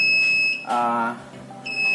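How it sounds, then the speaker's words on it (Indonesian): Fire alarm control panel buzzing in steady high beeping tones, broken midway by someone talking nearby, then resuming alone at moderate loudness. "alarm ini nyala, nggak usah perlu panik."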